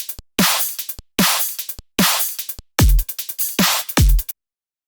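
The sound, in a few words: electronic drum pattern from song breakdown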